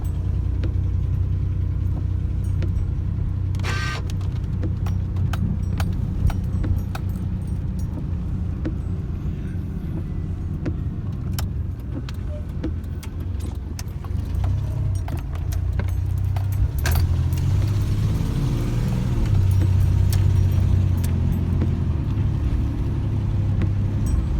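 Interior of a car on a short neighbourhood drive, with a steady low engine and road rumble throughout, a light jingle of keys, and occasional soft rattles and clicks, all close and without talk.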